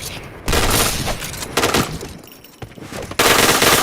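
Gunfire in the shooter game PointBlank: loud, close bursts of rapid automatic fire separated by short pauses, with sharp onsets and a dense crackling texture.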